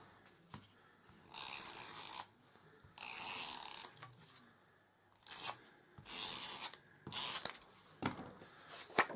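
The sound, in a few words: glue tape pen applied to papercraft card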